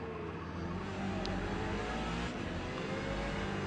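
Ferrari 488 GTE race car engine in Forza Motorsport at Daytona, a steady dense mechanical roar with sustained revving, continuous and fairly loud throughout with no voices.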